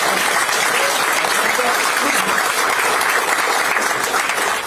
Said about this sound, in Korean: 박수도 안 쳐주세요.